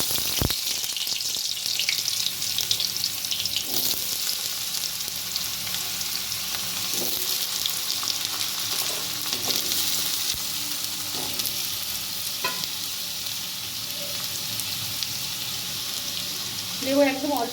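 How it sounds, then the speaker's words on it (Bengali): Potatoes fry in hot mustard oil in a wok in a home kitchen, a steady close sizzle with occasional stirring scrapes and small spatters, continuous throughout. "কড়াইতে সর্ষের তেল গরম হয়ে গেছে, প্রথমে আমি আলুগুলো ভেজে নেব।"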